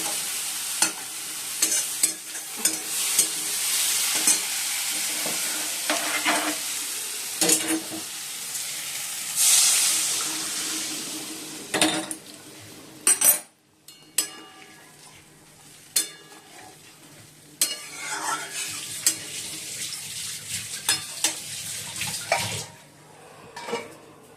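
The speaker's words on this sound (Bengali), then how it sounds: "মশলা তো কষানো হয়ে গেছে, আলুগুলো দিয়ে দিয়েছি" Potatoes added to a pan of fried-down spices for a curry, sizzling steadily while a spoon scrapes and stirs in repeated strokes, close and loud, with occasional clanks of the pan.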